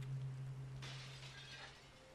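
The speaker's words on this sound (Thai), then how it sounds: "มีเสียงกระจกแตกจากมาข้างในด้วยนะฮะ" Glass shatters somewhere inside a building in Resident Evil 2, a faint, distant crash that breaks out over a low, steady hum and quickly trails off.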